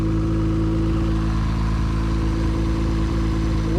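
A Toyota 1JZ engine runs at a steady idle, a loud, continuous low hum with even rumbling harmonics and no change in pace or any voices over it.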